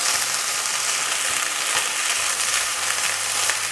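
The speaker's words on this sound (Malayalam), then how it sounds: "നന്നായിട്ട് മിക്സ് ചെയ്യാം." Masala puffed rice being mixed with turmeric, chilli powder and chaat masala, a loud continuous dry rustling hiss that stays steady throughout.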